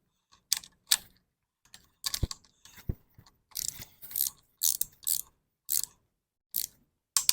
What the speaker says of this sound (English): we're going to go ahead and torque down the intake manifold bolts to 20 foot-pounds